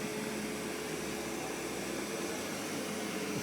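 A Samsung POWERBot R7070 robot vacuum cleaner runs with a steady, loud whirring roar, unbroken and close, while it moves back and forth over the floor; no voices.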